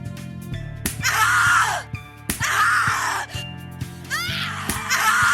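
A person screams and groans in the horror video game The Cat Lady, with long, strained, wailing cries in several loud bursts separated by brief pauses over an eerie background.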